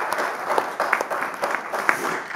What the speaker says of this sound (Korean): 개별 질문 끝나면 박수 한번 쳐주시면 고맙겠습니다